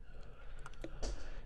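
A single tilde key on a US computer keyboard clicks once, quiet and close, with a faint second tap in a short stretch of otherwise still room tone.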